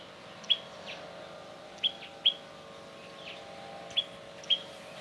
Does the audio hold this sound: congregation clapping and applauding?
no